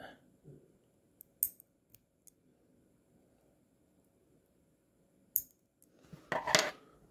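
Stainless steel chrome nail clipper snipping short fingernails, giving a few sharp isolated clicks spaced apart, then a louder cluster of crisp snaps near the end, close and clear over a quiet room.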